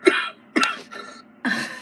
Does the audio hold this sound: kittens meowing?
no